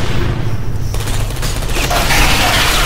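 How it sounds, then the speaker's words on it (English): Turret gunfire aimed at the player in Portal 2, a dense rattling stream of shots with low booms underneath, loud and continuous throughout. "I'm being shot at"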